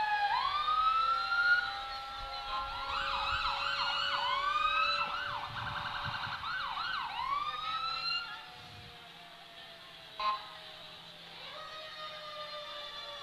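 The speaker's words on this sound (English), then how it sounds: "And check out the old fire engine." A wailing siren rises and falls on an old county volunteer fire engine rolling through a Christmas parade, loud and close with repeated whooping sweeps before it trails off, leaving outdoor crowd noise and a brief knock.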